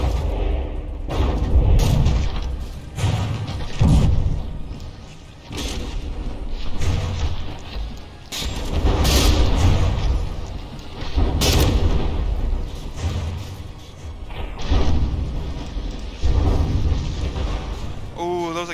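Naval battle between two battleships in From the Depths, heavy shellfire and explosions booming in dense, overlapping rolling blasts, loud and continuous with brief lulls, without speech.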